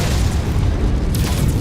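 A loud, dense, rumbling explosion as a target mech is destroyed in MechWarrior 5, a sustained boom filling the whole moment without pause.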